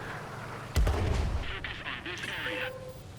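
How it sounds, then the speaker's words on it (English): An artillery shell in the tank game World of Tanks slams down with one sharp, heavy boom, followed by a rumbling tail and fading in-game effects. "Artillery's going to come in."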